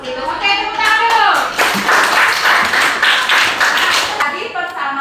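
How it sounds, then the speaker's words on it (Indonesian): Schoolchildren in a classroom clap their hands in a lively burst of rhythmic applause, mixed with children's voices and chatter throughout. "Oke, tepuk tangan dulu."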